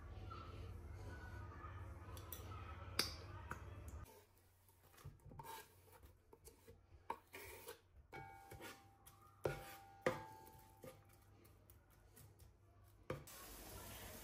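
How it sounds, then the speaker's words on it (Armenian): A knife chops chicken breast on a board in a home kitchen, making quiet, irregular knocks and scrapes after an opening low hum. "կտրատում եմ արդեն հավի կրծքամիսը"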